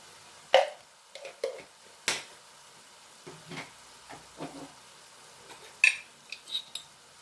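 Chilli powder, garam masala and cumin powder are stirred together in a pan, producing sparse, irregular scraping and clinking knocks of a utensil against metal over near silence.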